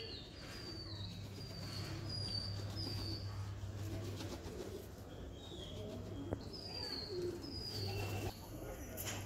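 Madrasi breed pigeons coo softly and repeatedly at close range, with a steady low hum and occasional chirps and wing sounds around them.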